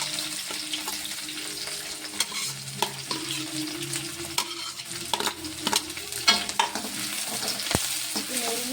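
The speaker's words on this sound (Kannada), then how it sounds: "ಚೆಂದಾಗಿ ಎಣ್ಣೆಗೆ ಫ್ರೈ ಮಾಡ್ಕೊಂಡ್ವಿ" Onion, green chillies and coriander fry in oil, a steady close sizzle broken by the scrape and clatter of a spoon stirring the pan, with sharper knocks toward the end and no talking.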